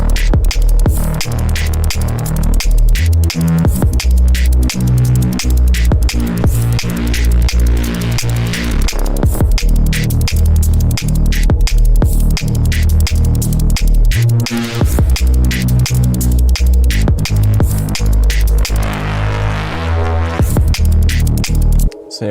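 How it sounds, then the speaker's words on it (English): A loud synth with its saturation cranked to full drones in dense, gritty, sustained tones, throbbing and shifting continuously throughout with no pauses. "I actually want to add some saturation, and let's go on soft line and crank these two all the way up"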